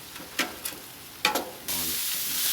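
Vegetables for lo mein hitting a Blackstone 22-inch griddle: a few brief scrapes of a spatula, then a sudden steady hiss of frying that holds loud to the end.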